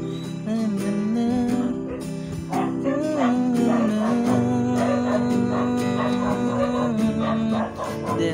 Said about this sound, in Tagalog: pasensya na sa mga aso, medyo maingay